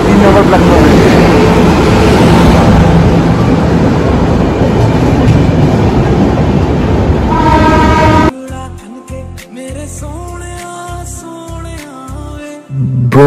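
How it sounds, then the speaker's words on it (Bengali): The Brahmaputra Mail passenger train pulls into a platform at Malda station before dawn, its steady loud rumble and rolling clatter filling the first eight seconds before giving way to choppy, broken mechanical sounds. "ভোর 3:30টা ব্রহ্মপুত্র মেল ঢুকছে মালদা স্টেশনের 3 নম্বর প্ল্যাটফর্মে"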